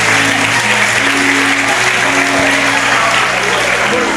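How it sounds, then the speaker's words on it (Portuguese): Steady, dense applause fills a church gathering, heard close and loud throughout with a low hum of music or voices beneath. "Aplauda Jesus aí."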